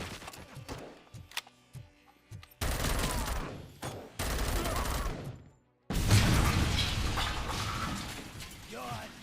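Rapid gunfire bursts in the RoboCop video game, loud fusillades broken by brief gaps, while people talk over and between the shots.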